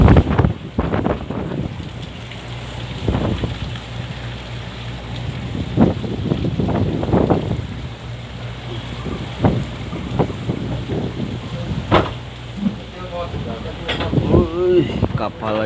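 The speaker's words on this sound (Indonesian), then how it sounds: "anginnya, guys, besar sekali, guys. Taifung ini orang nggak ada berani yang keluar nih." Strong typhoon wind buffets the microphone at a harbour in Taiwan, heavy gusty rumbling with waves and rocking boats beneath, and bursts of louder wind throughout.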